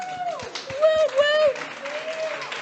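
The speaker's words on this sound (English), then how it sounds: "If everybody can give her a quick round of applause for Brooke." An audience on a live online talk show gives a brief, sparse round of claps, a handful of distinct hand claps sounding under a person who keeps talking.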